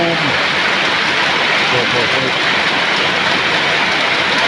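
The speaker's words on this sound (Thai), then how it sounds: "ฝนมาแล้วครับ" Heavy storm rain pours down in Na Kae district, Nakhon Phanom, in northeast Thailand, a dense, loud, continuous hiss throughout. A voice gives a brief exclamation over it.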